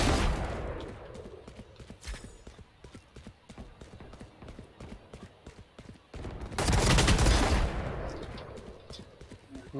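Gunfire in the tactical shooter Valorant, with dense bursts and rapid shots clustered through the clip and a louder, heavier volley near the end.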